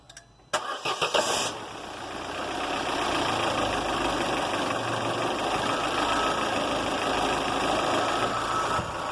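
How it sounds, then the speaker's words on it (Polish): An Opel 1.6 Twinport Z16XEP engine cranks with a few quick bursts, catches, then settles into a steady, even idle that runs on close by. "auto odpalone, silnik pracuje normalny, ma prawidłowe w tej chwili obroty"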